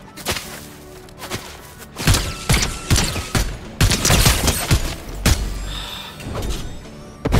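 Rapid bursts of gunfire in an online shooter game played on a controller, loud close volleys repeating in clusters with thuds between them.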